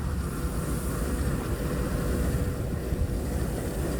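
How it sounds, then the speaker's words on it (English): A big Union Pacific freight train at the Kelso depot in the Mojave Desert rumbles steadily and broadly, a low continuous roar with no voices. "The trains are really big, getting ready for the climb up the hill."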